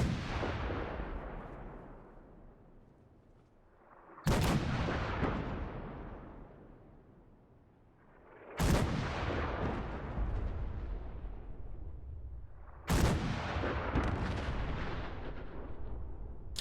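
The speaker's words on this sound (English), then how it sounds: "You've now got artillery support." Artillery fire in Fallout 4: three heavy, distant-sounding blasts spaced about four seconds apart, each a sharp crack followed by a long rolling rumble that slowly fades.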